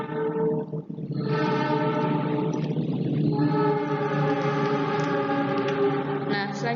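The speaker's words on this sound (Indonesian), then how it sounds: "ada suara kereta, suara yang lain-lain" A passing train sounds a long, loud horn in several sustained blasts over a continuous rumble, indoors and fairly close, with no speech.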